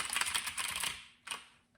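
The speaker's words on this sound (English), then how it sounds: "I have a keyboard." Quick typing on an old half computer keyboard with a numeric keypad, a close run of light clicking keystrokes followed by one last isolated tap, no voices.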